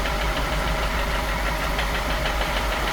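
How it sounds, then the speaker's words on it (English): A car engine with bottom-end damage runs with a steady, dense knocking from its lower end, loud and close with no talk over it. "When you listen closely, you can hear the knock strongest near the lower part of the engine."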